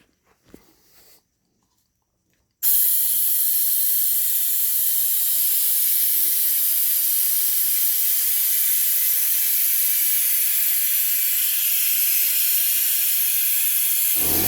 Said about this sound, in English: I'm just gonna turn on the air supply and open the bleeder valve in a second